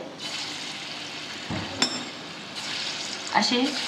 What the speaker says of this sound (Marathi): इकडे दुसऱ्या गॅसवर मी वाफाडे तळून घेते